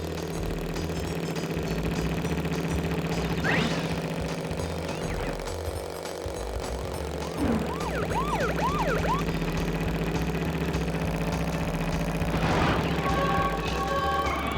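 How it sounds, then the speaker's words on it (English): A police car siren wails in Crash Bandicoot 3: Warped, rising and falling in loud sweeping tones over a steady droning game soundtrack and engine hum, with several distinct siren sweeps across the stretch. "Skirt around this police car."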